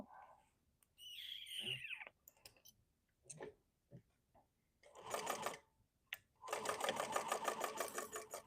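A sewing machine stitches the stabilized bottom and side panels of a Taylor Tote bag together, running in several close, loud bursts of rapid stitching separated by brief pauses and small clicks.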